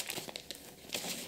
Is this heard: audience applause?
no